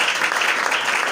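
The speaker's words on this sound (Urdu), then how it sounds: "زوردار تالیاں کیونکہ وہ اس لائق ہے۔" A congregation at an evangelistic gathering in Lalamusa claps vigorously, a steady, dense wash of applause held at an even level with no speech.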